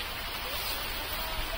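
Heavy rain pours onto a sugarcane field, a steady broadband hiss with faint patter, continuous and fairly quiet for a brief moment.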